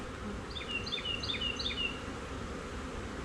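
Honey bees in an open hive hum with a dense, steady buzz close by, while a few quick high chirps flicker briefly near the start.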